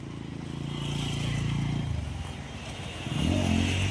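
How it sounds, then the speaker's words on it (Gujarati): A motorbike passing on a hill road closed to four-wheelers, its engine droning close by, briefly easing off and then rising again as it goes past, with no talk over it. "જો બાઇક તો જાય જ છે."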